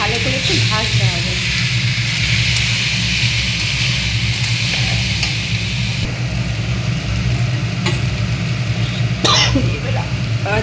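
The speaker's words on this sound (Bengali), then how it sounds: "এবার এই চাল আর ডাল দিয়ে রেখেছিলাম দিয়ে দিলাম। এটাকে যে ভালো করে একটু ভাজতে হবে।" Rice and lentils fry in a pan with a steady, loud sizzle that runs throughout, with occasional stirring scrapes and a voice talking over it.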